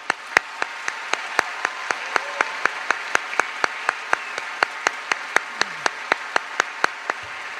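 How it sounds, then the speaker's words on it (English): Audience applause at a Chanhassen High School graduation ceremony, with crisp, evenly spaced claps from one nearby pair of hands standing out above a softer, continuous crowd clapping for nearly eight seconds. "let's give these guys a round of applause"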